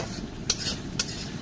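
Onions frying in a pan at an outdoor jungle cooking spot beside a canal, a steady soft sizzle broken by two sharp scraping stirs of a utensil.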